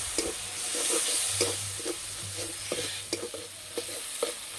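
Ground cumin, coriander, chili and turmeric fry in a pan after a splash of water, with a steady moderate sizzle and soft repeated stirring scrapes, close and without talking.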